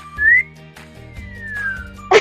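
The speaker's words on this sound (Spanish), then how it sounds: "pero ella sabe chiflar, mirá, escuchá" A person whistles alone, sliding the pitch up and then gliding it down in short, clear, bright tones. A sharp brief sound follows at the end, and no one talks.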